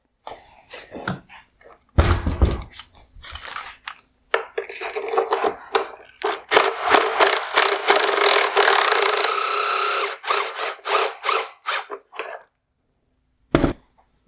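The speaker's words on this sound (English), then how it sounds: "Next, I'm going to loosen this headlight adjuster using an E6 external Torx socket." An E6 external Torx socket working loose a headlight adjuster on a Mercedes-Benz GLS550 OEM LED headlight, giving bursts of scraping, rasping plastic-on-metal turns and quick ratchet-like clicks between short pauses.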